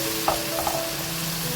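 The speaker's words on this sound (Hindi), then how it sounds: "इसको आप फ्राई करना शुरू कर दीजिए" Garlic ginger paste fries in a pan with a close, steady sizzle for a spicy Sindhi biryani. A couple of quick stirring scrapes sound near the start.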